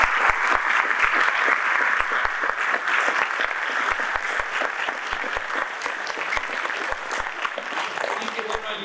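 Sustained applause from a lecture audience at a school conference, honoring a teacher; dense steady clapping fills the whole stretch with no talk over it.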